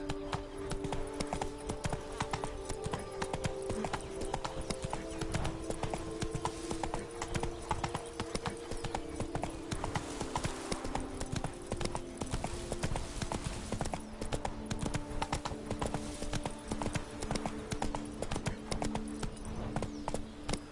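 Roach the horse gallops in a video game, hoofbeats pounding in a fast, continuous rhythmic clatter that stays loud and close throughout, with faint layered ambience beneath.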